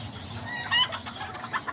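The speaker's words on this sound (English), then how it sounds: "There's this rooster right here, this little coloradito." A small reddish rooster and hens kept in a backyard alongside pigeons, with soft clucking and one brief louder call near the middle, close and fairly quiet.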